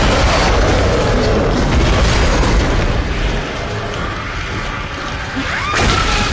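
Explosion in Dead Space, a loud, heavy boom that opens the clip and rumbles away over several seconds, followed by a short sharp metallic clatter near the end.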